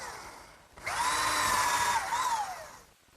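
A power drill drives a screw into a 2x4 workbench frame in one whining burst of about two seconds, its motor pitch rising then dropping, fairly faint and close with no speech.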